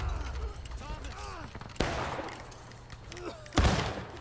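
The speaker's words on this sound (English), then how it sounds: "Oh my god, that's a lot of muskets." Massed musket volleys crack out in War of Rights, a 150-player online battle: two sharp, loud bursts of gunfire about two seconds apart ring over a steady low rumble of the firing line, with voices shouting between them.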